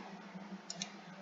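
Two quick, crisp computer mouse clicks in close succession during SolidWorks assembly work, faint and close over a low steady hum.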